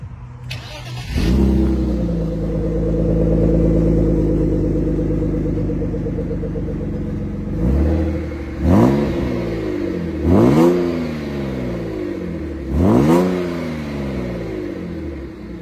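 A BMW E39 car engine cranks and starts, settles into a steady idle, then revs three times in separate rising-and-falling bursts, loud and close.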